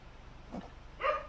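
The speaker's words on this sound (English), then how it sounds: "Did you hear a dog bark? Did you? It's my dog." A dog barks outside a door, a single short bark arriving about a second in, fairly faint and muffled, with a softer sound just before it and no talking.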